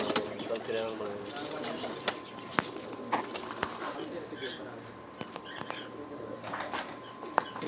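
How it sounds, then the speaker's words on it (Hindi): Pigeons kept around a house, wings flapping and faint cooing amid a busy outdoor background, with someone talking over the sounds and sharp clicks scattered throughout. "कबूतर सारे इन्होंने बाहर बैठे हैं"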